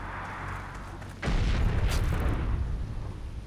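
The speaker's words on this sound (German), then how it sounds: "Hier schlagen Schüsse ein." Gunfire in the Heroes & Generals war game strikes close by, a sudden loud burst of impacts and rumbling crashes cutting in after a quieter ambient stretch and carrying on as a dense, noisy barrage.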